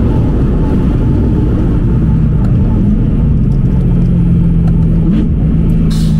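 A BMW M3 E92 with an Akrapovic exhaust pulls hard in second gear, a loud, dense engine roar heard from inside the car that rises steadily in pitch with a continuous deep rumble underneath.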